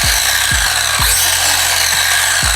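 Ryobi power saw with no brake, its motor whining down freely after the trigger is released, a loud steady hum with a few dull knocks, close and alone with no voices.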